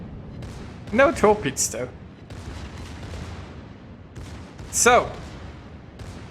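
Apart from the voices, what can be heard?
secondary guns firing, Schlieffen in World of Warships video game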